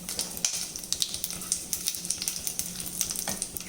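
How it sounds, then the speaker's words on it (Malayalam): Whole cumin, pepper, cardamom and cloves crackle and sizzle in hot oil and ghee for a pea pulao, a close, busy stream of sharp pops and spits over a steady frying hiss. "അതിലേക്ക് നമുക്ക് എടുത്തു വച്ചിരിക്കുന്ന ജീരകം, കുരുമുളക്, ഏലക്ക, ഗ്രാമ്പു എന്നിവ ഇട്ട് കൊടുക്കാം"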